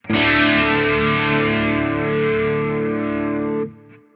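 An electric guitar chord rings through a Quad Cortex modulation effect at slow speed, a loud sustained tone with gentle pulsing for about three and a half seconds before it cuts off.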